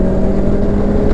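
A Kawasaki Ninja ZX-6R superbike engine roars loud and close in a steady, sustained drone as the throttle is opened, with no talking over it.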